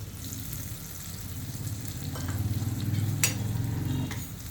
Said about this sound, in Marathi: आणि चांगलं हलवून घेऊया